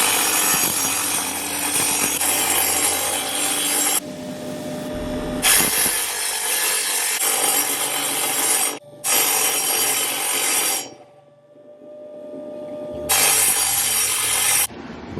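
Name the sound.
rough grinding silver ore on a grit wheel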